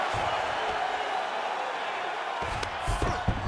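A UFC arena crowd applauds and cheers with a steady, broad roar, while a few dull thumps and louder bursts come near the end.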